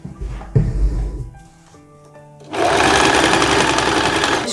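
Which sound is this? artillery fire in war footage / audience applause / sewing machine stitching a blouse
sewing machine stitching a blouse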